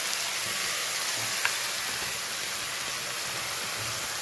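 Chopped onions frying with cumin in hot oil for chole, a steady soft sizzle with faint clinks of stirring and no talk.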